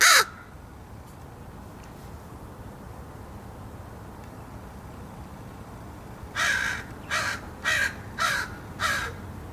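A crow that is very comfortable near people caws close by. One sharp call comes at the start, then after a quiet pause a rapid run of five loud caws follows.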